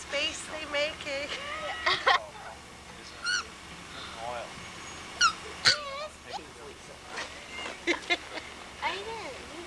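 A puppy whimpers and whines in repeated short, high, wavering cries spread across the stretch, fairly close, amid outdoor background noise in Alaska, with faint rustling between the calls.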